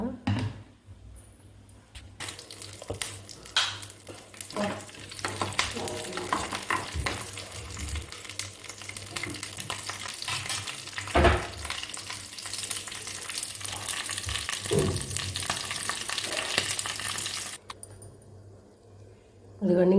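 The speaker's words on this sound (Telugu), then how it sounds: "తాలింపు వేసేయటం ఇంకా" Tempering spices fry in a hot pan for chutney, with a steady close sizzle and occasional clinks and scrapes of stirring running through most of the stretch before it cuts off near the end.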